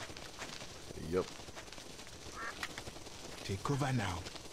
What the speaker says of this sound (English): Yellow-billed duck.